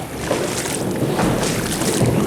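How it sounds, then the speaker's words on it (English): Steady rush of water against a moving kayak, with wind buffeting the microphone throughout. "You can hear the boat."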